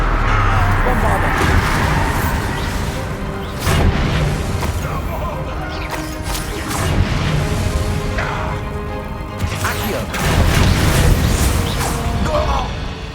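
The Bombarda blasting spell in Hogwarts Legacy goes off in heavy booming bursts over dense, continuous game sound, with the strongest blasts landing roughly a few seconds apart.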